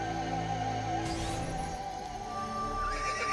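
A horse whinnies in Assassin's Creed Brotherhood over a steady bed of game music and ambient noise, with a brief clatter partway through.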